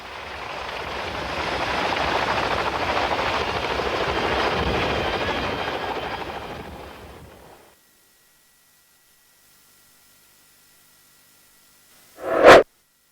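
A Boeing CH-47D Chinook tandem-rotor military helicopter gives off a loud, steady whooshing roar that fades out after several seconds. Near-silence follows, then a brief sharp noise.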